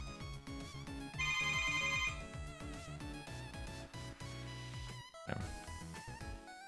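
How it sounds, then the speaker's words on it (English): A phone ringtone used as a door sound in a 2.5D zombie roguelike game plays as a bright, looping electronic melody with a quick rhythmic pulse, loud and up close, ending in a short burst. "Apparently a phone ringtone is being used for doors."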